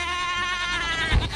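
A goat in the animated film Ferdinand gives a short, close, wavering bleat that swells to a brief louder burst near the end.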